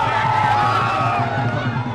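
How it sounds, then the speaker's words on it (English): Dense crowd roar of cheering and chatter as a released police officer walks out of a prison courtyard, a loud continuous swell that holds steady throughout. "As DG Vanzara walks out of jail, the crowd erupts."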